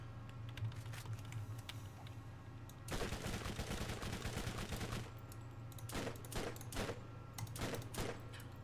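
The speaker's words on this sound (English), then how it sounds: "Bonehead always drops the Bone Shredder, which is a double SMG" Gunfire from the Bone Shredder double SMG in Borderlands, a rapid two-second volley followed by several short, sharp bursts, heard fairly quietly and close, with no speech.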